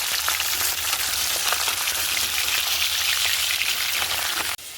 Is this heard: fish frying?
yes